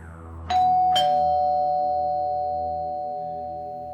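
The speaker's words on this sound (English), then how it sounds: "rings the doorbell" A house doorbell gives a clear two-tone ding-dong, with the second chime ringing out and slowly fading over several seconds in a quiet room.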